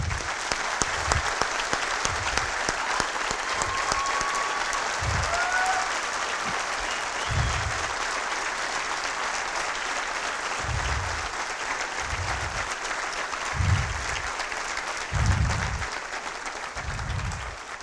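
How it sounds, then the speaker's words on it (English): Sustained applause from an audience at an Eid ul Fitr awards ceremony, steady dense clapping filling the whole stretch with recurring low thumps beneath it, fairly loud and continuous without talk. "Let's give them a round of applause"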